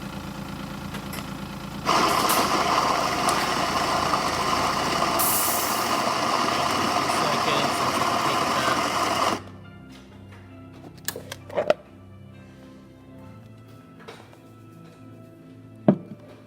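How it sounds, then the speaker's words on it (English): A Baratza Vario coffee grinder on a coarse setting whirs loudly and steadily for several seconds, then cuts off, leaving a few faint clicks and knocks. "So we only want to adjust the grind while the machine's running, so we'll fire it up again."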